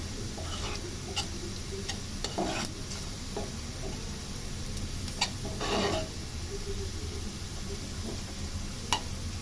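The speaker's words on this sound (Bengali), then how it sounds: "এগুলোকে হালকা করে ভাজার পরে এর ভিতরে দিয়ে দেবে জিরা" Cumin sizzles in oil with lightly fried vegetable stalks, a constant fizzing hiss broken by scattered sharp ticks and pops from the pan.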